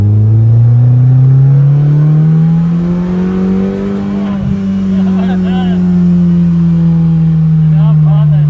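Car accelerating hard in second gear, the engine note loud and close, climbing steadily then easing off, with voices talking over it.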